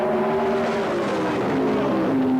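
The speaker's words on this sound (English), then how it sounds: "they build up the revs, away together" Drag racing cars at a Santa Pod Cannonball meet, among them a Ford Granada, roaring as the engines build revs and launch together, a loud, sustained engine drone with rising pitch throughout.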